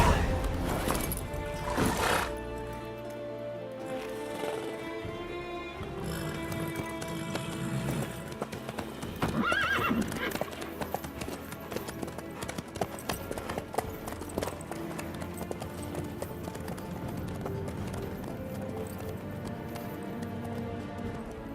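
A horse galloping in the video game Witcher 3 gives steady, rapid clip-clopping hoofbeats, with a whinny early on, over a continuous bed of game music for the whole stretch.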